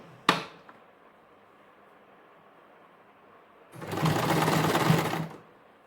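A sewing machine stitches lace onto a sleeve: a sharp click at the start, then a steady whirring run of stitching for about two seconds near the end, close and clear.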